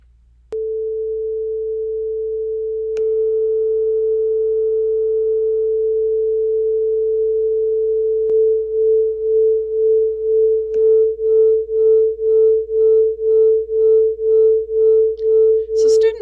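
A steady pure A440 tone holds alone, then a second close tone about 8 cents sharp joins and the sound starts pulsing in slow, regular beats that swell and fade.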